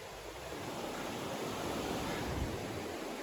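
A wilderness river rushes steadily along the Appalachian Trail's 100 Mile Wilderness, a broad, even wash of flowing water heard alone at moderate distance.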